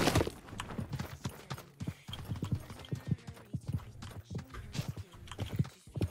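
Horse hooves clip-clopping at a gallop in the battle royale video game Realm Royale, a quick steady rhythm of thuds running through the whole stretch, fairly loud and close.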